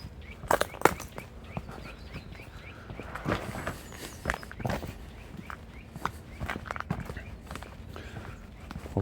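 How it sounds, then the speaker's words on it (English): Birds chirping in early-morning woods, scattered faint calls heard from a distance alongside soft footsteps and rustling close by. "you can really hear them starting to like"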